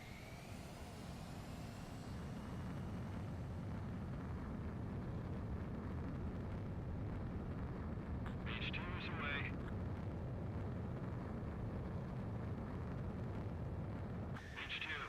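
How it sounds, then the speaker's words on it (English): A carrier-launched jet fighter roaring through takeoff in the flight game Ace Combat 7, a steady loud engine rumble sustained throughout with a brief radio-style voice chirp partway and near the end. "Mage 2, begin takeoff sequence. You're cleared for launch."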